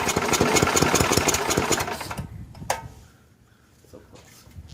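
Ariens ST824 two-stage snow blower engine catches and runs loudly with a rough, pulsing chug for about two seconds, then dies down to quiet with a faint sputter.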